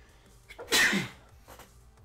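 A single sharp human sneeze bursts out at close range in a quiet room, a brief intake followed by the loud explosive release, with no talking.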